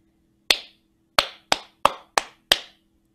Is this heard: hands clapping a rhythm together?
yes